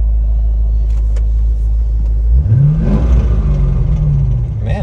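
Barn find Chevrolet Corvette Z06 engine idling with a deep steady rumble, then revving up and easing back down, loud and close.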